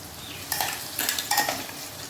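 Ginger-garlic paste and spices frying in oil for chicken masala, with a close sizzle and several quick bursts of scraping and stirring against the pan, no voices.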